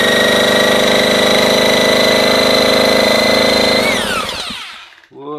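An MBK moped engine running with a steady, loud buzzing drone for about four seconds, then winding down and sputtering out to near silence.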